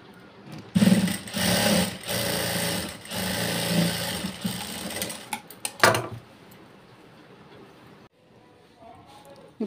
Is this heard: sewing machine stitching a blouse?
yes